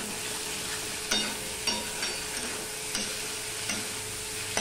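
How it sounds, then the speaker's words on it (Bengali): Spices with ginger, salt and turmeric for a fish curry stirred in a pan, a steady sizzle punctuated by about six evenly spaced spoon scrapes, fairly soft and without talk. "দিয়ে ভালো করে নেড়ে চেড়ে নেব।"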